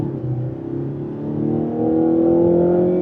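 A 2026 Mazda CX-90 PHEV Platinum Plus SUV accelerates back up to speed in normal mode, its engine note rising steadily as a continuous drone heard from inside the cabin.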